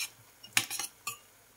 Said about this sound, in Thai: คนให้มันละลาย